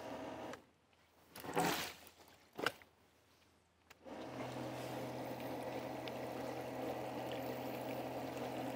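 Water filter backwashed from IBC tote rainwater tanks: after a few splashy bursts and sloshes, a steady rushing pour of water runs continuously with a low pump-like hum, moderately quiet and near.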